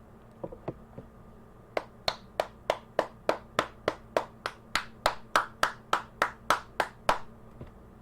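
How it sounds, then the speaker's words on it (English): A single person claps loudly and sharply, about twenty evenly spaced, crisp hand claps in a steady rhythm, preceded by a few scattered claps, close and alone in a quiet room. "That was an obnoxious clap."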